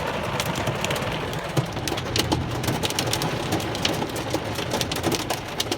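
Hail and heavy rain hammer down during a severe storm in downtown Denver, Colorado, a dense continuous clatter of sharp impacts on a car, loud and close with no pauses.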